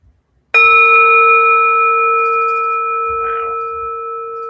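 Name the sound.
meditation bell being rung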